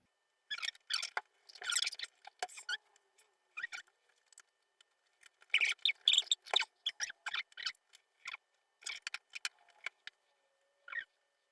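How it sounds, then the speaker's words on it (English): Cheap wire strippers cutting and stripping insulation from electrical wires during an indoor motion-sensor LED light install, heard as close, bursty clicks and scraping snips in irregular clusters with pauses between, no talking. "Now I just got these cheap old strippers, wire strippers here."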